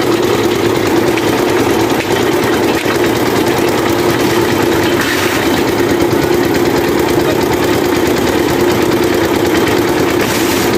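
An abaca stripping machine engine runs steadily and loudly, a constant droning rumble with vibrating mechanical texture throughout.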